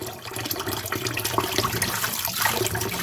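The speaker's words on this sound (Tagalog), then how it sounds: "Hugasan na natin yung maigi mga idol." Running tap water pours steadily over raw meat being washed, a continuous close splashing rush with no pauses and no voices.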